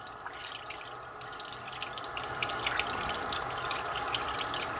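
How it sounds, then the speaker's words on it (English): Cold tap water runs steadily into a sink while a plucked whole quail is rinsed of loose feathers, a continuous close splashing hiss with small irregular drips and gurgles. "using cold water to remove any loose feathers."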